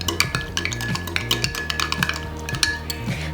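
A spoon stirring moringa tea in a cup, with quick rhythmic clinks and scrapes against the sides, close and clear, with no one talking.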